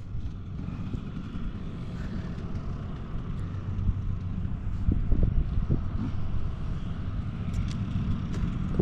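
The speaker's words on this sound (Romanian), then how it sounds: "Bate vântul aici" Wind blows steadily outdoors during an enduro ride, a constant low rumbling buffeting on the microphone that swells slightly midway, with no talking.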